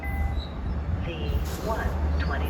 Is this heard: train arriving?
yes